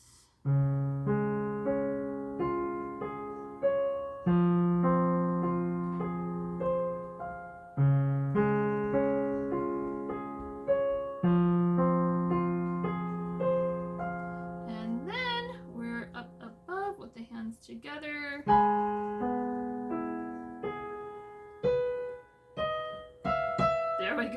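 Solo piano plays a slow, chordal passage from Debussy's Clair de lune, with sustained ringing notes and gentle arpeggiated figures, close and clear, with no talking.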